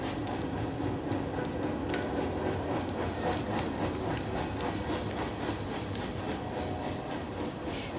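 Train passing outside a workshop, heard as a faint, distant, continuous rumble with soft rhythmic clatter of wheels on rails, steady throughout with no talking.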